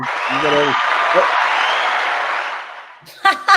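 A canned applause effect triggered from a sound button plays for a few seconds as a smooth crowd-clapping wash, with a voice over its start and people talking again as it fades.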